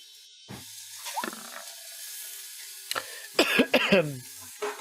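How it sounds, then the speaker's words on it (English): A single harsh cough rings out, then a rough burst of several more coughs, with quiet gaps between them. "He coughs into his ale."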